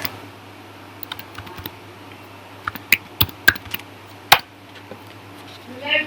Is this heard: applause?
no